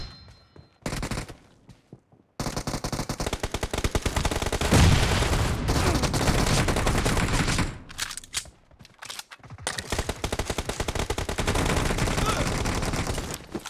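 PUBG Mobile gunfire comes in loud, close automatic bursts, some short and some long, with sustained volleys separated by brief pauses and silent gaps.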